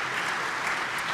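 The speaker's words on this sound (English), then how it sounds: "we just absolutely want to give them a round of applause" Steady, dense applause from the audience at a riverfront community meeting, an even wash of many hands clapping at once, sustained and moderately loud throughout with no pauses.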